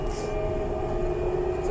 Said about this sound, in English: first things first, we should be passing a train